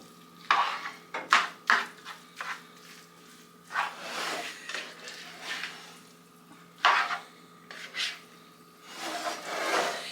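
A spoon scrapes and clatters around a bowl while someone mixes homemade dog food of chicken, egg and rice. Uneven strokes and knocks come in clusters with short pauses, close up, and no one talks.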